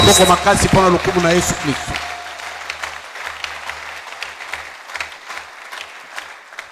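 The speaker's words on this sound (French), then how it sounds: "Est-ce que vous pouvez acclamer très fort pour la gloire de Jésus-Christ?" A church congregation applauds for the glory of Jesus Christ, with loud clapping under a speaker's voice at first, then fading into scattered, lingering claps.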